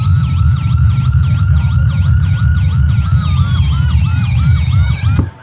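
An AS920 electronic siren box blares two overlapping tones at once, a rapid warbling yelp layered over a slower wail, loud and close, above a low rumble.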